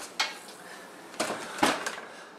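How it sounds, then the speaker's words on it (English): Tortilla pizza slid into a home oven onto a pizza stone: a few faint metallic clanks and scrapes of the rack and pan, spaced apart and quiet. "we're gonna put this in the oven real quick."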